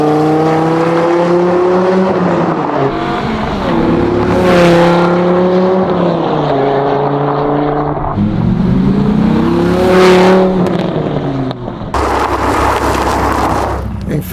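A Dodge Viper GTS engine accelerating in repeated surges, its harmonic roar climbing in pitch and then shifting, heard close from inside the car with someone talking over it.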